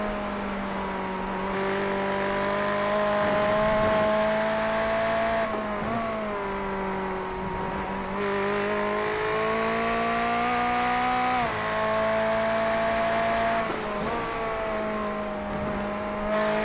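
GT3 race cars at Brands Hatch in a sim-racing game, engines droning loud and continuous, pitch dropping under braking into corners and climbing again on acceleration, several cycles, no talk.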